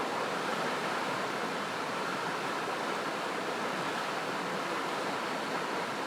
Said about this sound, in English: the monsoon season brings fierce, rushing currents